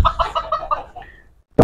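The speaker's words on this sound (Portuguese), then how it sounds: "igual aqui está criando galinha" Chickens in a backyard coop cluck near and loud in a quick series of calls that trail off, followed by a sudden loud noise at the end.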